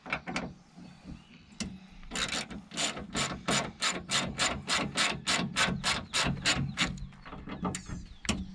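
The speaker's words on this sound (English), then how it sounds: "Gonna take loose the 3 bolts holding the base plate in." A ratchet with an 8 mm socket loosens the base plate bolts during a hood latch install on a JK Jeep, a quick, close run of even clicking strokes after a few single clicks, with no talking.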